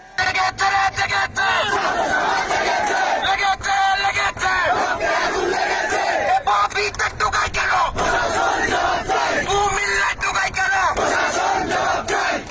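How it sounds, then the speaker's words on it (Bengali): Students protesting against university administration and for quota reform chant slogans together in a loud, continuous crowd roar, rhythmic shouted calls rising and falling without pause throughout. "বিশ্ববিদ্যালয়ের প্রশাসনের বিরুদ্ধে বিভিন্ন স্লোগান দেন আন্দোলনরত শিক্ষার্থীরা"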